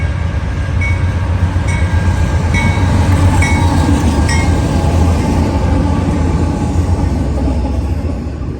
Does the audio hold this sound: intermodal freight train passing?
yes